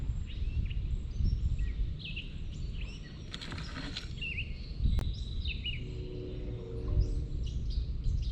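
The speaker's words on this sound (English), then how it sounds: "I love to just listen to the birds." Faint chirps and short bird calls rise over a low outdoor rumble, scattered and sparse, with no voices.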